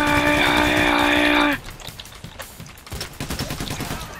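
Bursts of gunfire in the video game Payday, a dense rapid volley of shots followed by scattered rattling fire and clatter, loud and close with game ambience.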